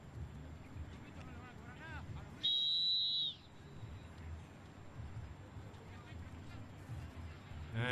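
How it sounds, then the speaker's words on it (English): A single loud, shrill referee whistle blast at a polo match lasts about a second, cutting through a noisy crowd and faint talk. "we hear another blow of the whistle there"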